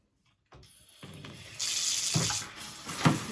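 Water runs from a tap over a dryer lint filter being washed. It starts abruptly as a hiss, then grows into a louder steady splashing rush with brief surges as the flow hits the mesh.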